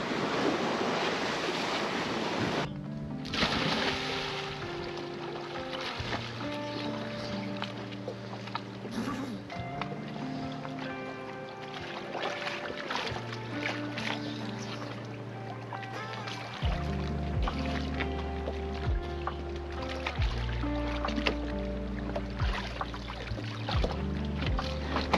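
Sailboat cruising through the British Virgin Islands in the Caribbean, with continuous wash of waves against the hull and wind buffeting the microphone, a steady moderate roar with some low thumps, and no clear talk.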